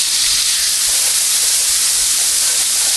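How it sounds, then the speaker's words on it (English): Onion and garlic sizzle loudly in a hot pan that still holds a little leftover meat, making a dense, continuous frying hiss with no pauses. "I'm going to add my onion and my garlic. There it goes."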